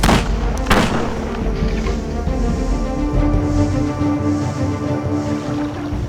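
Gunfire and artillery booms in the Battle Realms II strategy game, a sharp loud blast near the start followed by a rumbling battle din and engine-like drone.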